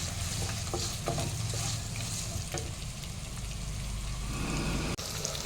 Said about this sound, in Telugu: వీటిని కూడా బాగా ఫ్రై చేయండి